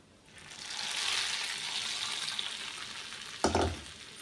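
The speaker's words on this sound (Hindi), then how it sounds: "अब हम इसके ऊपर से बघार करेंगे" Tadka of onion, cumin and asafoetida for lobia dal sizzles up from quiet into a loud, hissing fry that lingers, then a clatter and splash as it is poured or stirred.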